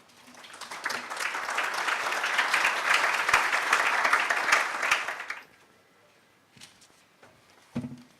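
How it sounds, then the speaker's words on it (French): A crowd applauds steadily for about five seconds, then the clapping stops abruptly, leaving quiet room noise with a few faint bumps. "que je vous demande d'applaudir"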